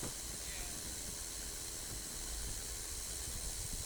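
Steady broadband wind rush inside a small aircraft cockpit in flight, a dense hiss whose strength swells and eases slightly as airspeed slows and picks up, loud and continuous throughout.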